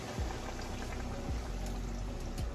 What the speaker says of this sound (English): put some water down in the bottom to help steam them